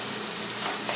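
Rice grains toasting in a pan for risotto alla milanese, stirred from center to side, giving a brief, close sizzle with scraping that brightens toward the end.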